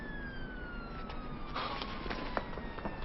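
An ambulance siren wails steadily and a little distant, its tone sliding slowly downward across the whole short stretch, with faint background noise and no clear speech.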